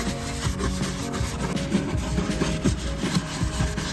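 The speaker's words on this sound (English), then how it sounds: "We'll use the brush that I showed you earlier to get out all the grime, get out all the dirt." A stiff brush scrubs dirt and grime from a BMW E60 M5, giving close, rapid, rhythmic scraping strokes that continue steadily throughout with no talking.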